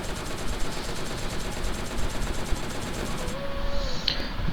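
Gunfire in a mobile battle-royale rush match, with bursts of automatic shots rattling steadily for several seconds, fairly loud and dense, then a short higher-pitched effect near the end.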